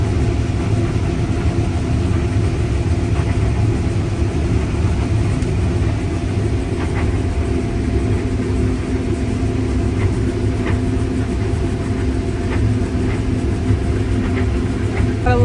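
A garbage truck's engine rumbles steadily as it pulls in, a loud, continuous low drone with faint clanks scattered over it.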